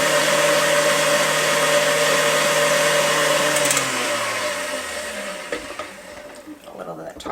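An electric mixer on low whirs steadily while beating egg whites with cream of tartar for a lemon chiffon cake, loud and even before winding down and stopping.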